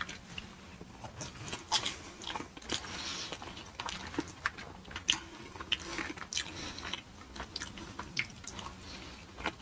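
Close crunchy biting and chewing of Dell Taco cheese fries, with repeated sharp crunches and soft wet mastication in an uneven rhythm, heard alone without talk.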